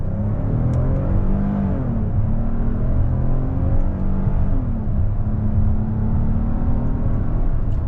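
A 2026 Hyundai Palisade SEL Convenience AWD accelerating hard in Sport mode with paddle shifts, engine drone climbing in pitch through the gears with audible drops at each upshift, heard steadily from inside the cabin.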